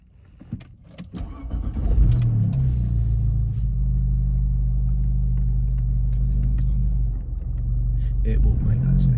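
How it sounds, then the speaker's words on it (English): A car engine starts during a mock driving test in Tottenham, then settles into a steady low idle rumble, loud and close, with a faint swell as it pulls away near the end; a few clicks and a brief voice come before ignition. "whenever you're ready, start the car and we'll go for a drive"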